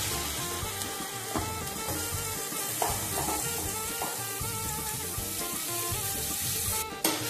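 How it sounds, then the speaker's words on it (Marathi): Garlic and chopped onion sautéing with a pinch of asafoetida in a hot pan, a steady close sizzle with occasional stirring scrapes throughout and no talking. "चांगले परतून घ्यायचे।"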